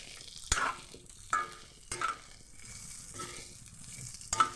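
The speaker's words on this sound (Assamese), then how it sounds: "আৰু ধুনীয়াকৈ আমি ভালদৰে লৰাই দিম, যাতে তেলখিনি ধুনীয়াকৈ আলুৰ লগত" Quartered potatoes stirred in hot oil in a pot while cooking pork with elephant apple, with a steady sizzle and a few sharp scrapes of a spoon against the pan, close by.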